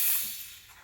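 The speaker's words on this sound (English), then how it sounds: "I'm gonna show you how the steamer works here." The steam wand of a Breville Dual Boiler BES920 espresso machine lets out a loud, airy hiss up close that tapers off slightly over under a second.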